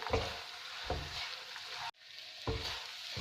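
Dry fruits and oats being stirred with sugar in a hot pan for energy balls, giving a steady close scraping and sizzling texture with rhythmic stirring pulses and a brief break partway through, no voices.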